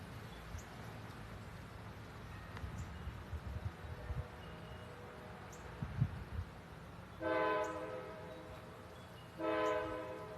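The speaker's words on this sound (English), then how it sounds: "Train." A train rolling past outdoors with a low rumble, then two loud sustained horn blasts a couple of seconds apart, moderately distant, with no talking.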